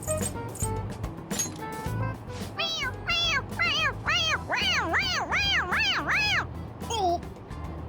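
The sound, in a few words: toy cat meowing when its head is pressed, in video game Persona 5 Royal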